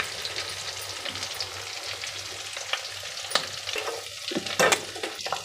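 Flattened potato vadas deep-frying in hot oil give a steady, close hiss of bubbling fat, with scattered crackles and a few louder pops and stirring clatters toward the end; nobody speaks.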